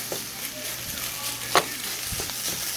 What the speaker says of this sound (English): you're going to mix your eggs into your rice